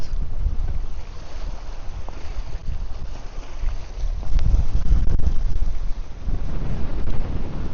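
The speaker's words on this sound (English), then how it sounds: "this wind is vicious now" Strong, gusty wind roars steadily across the microphone on a fishing boat on open water, a loud, continuous low rush with faint wave noise beneath it.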